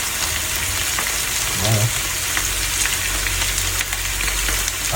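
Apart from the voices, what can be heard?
onions frying with sugar and soy sauce in pan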